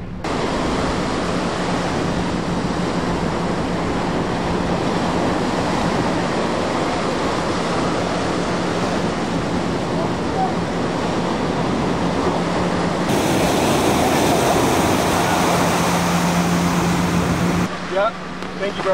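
Waves roll and break continuously in an artificial wave pool in Belgium, a loud steady roar of surf and churning water heard up close, with a brief change in texture near the end.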